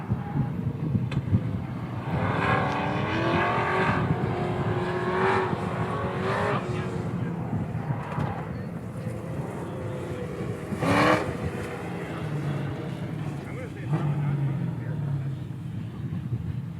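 A hot rod accelerating hard at the Hot Rod Power Tour, its engine revving up in rising sweeps several times, heard from some distance outdoors with wind buffeting the microphone.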